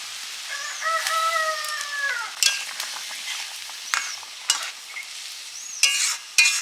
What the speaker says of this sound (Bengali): মাছের ঝোল ফুটে গেছে মাছগুলো দিয়ে দিলাম